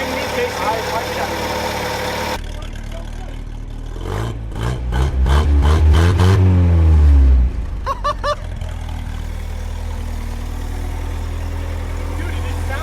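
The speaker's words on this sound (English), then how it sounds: "I actually really like that exhaust." A 1980s International Scout's engine idles with a steady low exhaust rumble, then swells as it revs and drops back to idle. The sound stays close and loud throughout, and people talk over parts of it.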